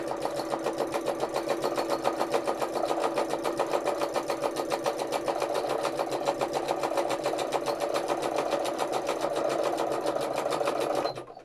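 Sewing machine stitching free-motion embroidery on hand-painted fabric, a fast steady needle chatter running evenly and close for about eleven seconds before stopping abruptly.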